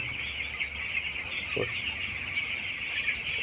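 Chickens cluck and chirp on a poultry farm raising meat birds, with a constant high chorus of many birds and a brief nearer cluck standing out against a low indoor hum.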